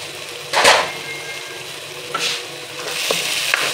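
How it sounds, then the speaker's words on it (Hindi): Tomatoes for a Lahori mutton karahi frying in a pan over a medium-to-low flame, a steady soft sizzle with a few louder stirring scrapes and splutters, close and without talk. "मीडियम टू लो फ्लेम पे रखेंगे इसको, दम से थोड़ी तेज़ आग पे, ताकि ये टमाटर जो है गल जाए।"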